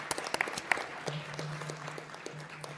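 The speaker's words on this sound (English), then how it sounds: "stand up, turn around, and applaud those people that are going to get you through this program." Scattered clapping from an audience at a nursing white coat ceremony, uneven and fairly light, with a few sharp claps standing out over a low hum.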